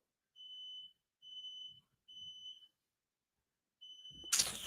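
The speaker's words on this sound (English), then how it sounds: "Hold on, the fire alarm's going off." A home smoke alarm beeps in four steady high-pitched bursts with short gaps, fairly loud and alone, followed by a sudden burst of rustling noise at the end.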